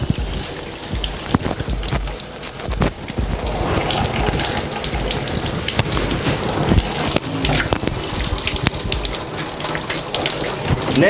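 Water runs steadily from a tap as someone wets their hair, a continuous hissing splash with uneven spatters, fairly close and loud, with no talking.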